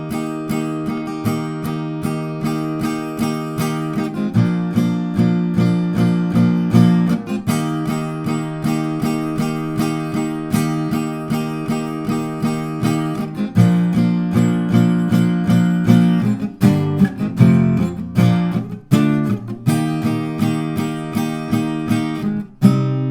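The chord progression of a song is strummed on guitar, with steady rhythmic strokes ringing out in repeating patterns and a brief sparser, choppier passage near the end.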